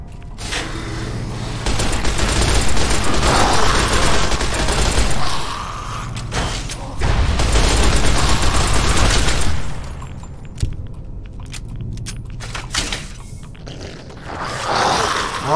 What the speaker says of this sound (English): This is my first time using the 10mm SMG